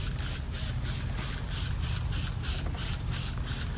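Bona maintenance oil cleaner is sprayed and wiped across a wood floor, giving a continuous rhythmic scrubbing swish with regular pulses over a low background hum, close and fairly even in level.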